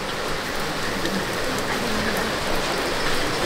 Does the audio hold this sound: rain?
yes